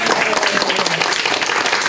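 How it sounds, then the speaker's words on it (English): An audience bursts into loud, sustained applause, dense clapping from a crowd that fills the whole moment without any talking. "Give them a round of applause."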